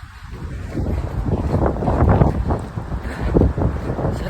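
Strong wind buffets the microphone, a continuous low rumbling roar with gusty surges throughout.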